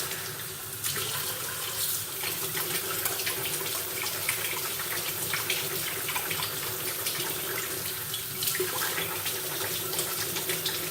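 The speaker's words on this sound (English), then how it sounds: "I'll just scrub it back and forth between my hands, let the water run through it" Tap water runs steadily into a sink while nuts are scrubbed back and forth by hand under the stream, making a continuous close splashing hiss with faint rubbing through it.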